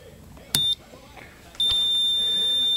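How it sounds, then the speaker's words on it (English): A multimeter beeps during a continuity test on an HVAC resettable limit switch. A short high beep sounds first, then a longer steady tone holds to the end, with a light click or two close by. "Now, if it wasn't beeping, we'd know she was open."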